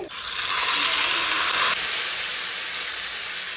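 Loud, steady sizzling of vadagam frying in hot oil, close up, a bright crackling hiss that eases slightly after a moment.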